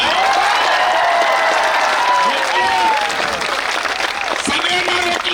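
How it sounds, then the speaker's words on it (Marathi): A crowd of students at a protest over an exam paper leak applauds loudly and continuously, with a voice carrying over the clapping. "जोरात टाळ्या वाजून इथून सांगून द्या."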